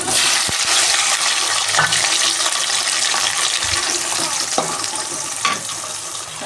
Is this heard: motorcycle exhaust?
no